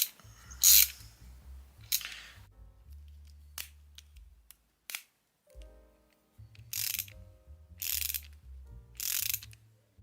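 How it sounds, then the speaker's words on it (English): A ratcheting screwdriver clicks in quick bursts while undoing and tightening a screw, with pauses between the sharp mechanical ratchet runs, heard close and alone. "or you can have it ratcheting, undoing a screw, or"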